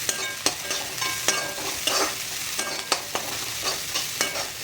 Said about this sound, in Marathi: त्याला सुद्धा परतून घ्यायचं आहे छानपैकी तेलामध्ये. मिक्स करायचं आहे कांद्यासोबत.